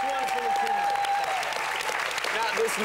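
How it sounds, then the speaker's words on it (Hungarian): An audience applauds at a staged show, dense continuous clapping heard up close with a voice talking over it. "Tapsoljuk meg Dr. Jimet!"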